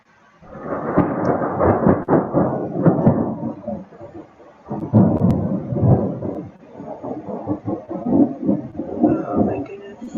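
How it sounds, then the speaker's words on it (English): Thunder rolls through a summer storm as a long, loud rumble in two or three swelling waves, deep and close, with no talk over it. "That thunder?"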